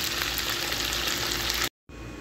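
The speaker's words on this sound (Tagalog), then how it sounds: "Prito-prito muna natin." Steady, dense sizzling of food frying in hot oil, close and constant, cutting off abruptly near the end.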